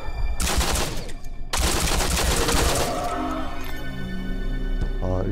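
Bursts of rapid gunfire in the VR shooter Dead Moon Revenge on Phobos, two loud volleys of automatic shots separated by a brief pause, followed by lingering ringing tones and fainter clicks.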